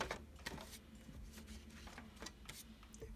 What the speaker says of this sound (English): Alright, here's the stickers printing.